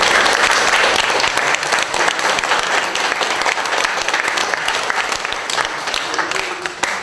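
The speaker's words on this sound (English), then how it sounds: "I think they deserve a round of applause." Sustained, loud applause fills the hall at a middle school World War 1 exhibition, steady crowd clapping continuing without a break for the whole stretch.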